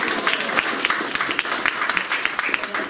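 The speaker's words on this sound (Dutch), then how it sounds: "ik wilde even een groot applaus voor de dames die het hele gebouw en hier en alles mooi versierd hebben" A room of people at a Christmas gathering in a care home clap steadily, a dense, even applause that holds for the whole few seconds with no voices over it.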